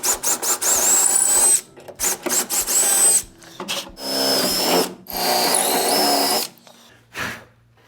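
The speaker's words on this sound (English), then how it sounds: "Drill my holes through this back panel while I can still get to it comfortably." A power drill whirs in short repeated bursts with pauses between them as holes are drilled through the back panel of a coach body in a workshop, close and fairly loud.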